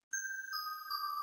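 A vintage soul-style Analog Lab synth preset played dry without its effect rack, a thin bell-like sustained tone that steps to a second pitch midway, faint and alone.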